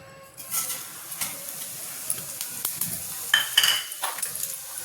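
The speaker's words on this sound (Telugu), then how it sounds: "ఆయిల్ కొంచెం వేడి కాగానే ఫస్ట్ జీలకర్ర వేయాలి." Cumin seeds sizzle faintly in a pan of hot oil on a stove, a soft hiss broken by light clinks and scrapes of a spoon against the metal, close and quiet with no talk.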